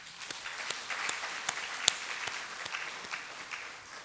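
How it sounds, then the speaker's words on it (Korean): A church congregation at a Korean Sunday morning service applauds to welcome a member's daughter visiting from America, a faint, steady patter of many hands with scattered sharper claps. "우리 박수 한번 합시다."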